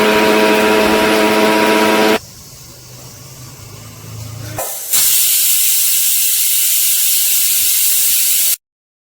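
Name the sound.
pressure cooker whistle cooking carrots in milk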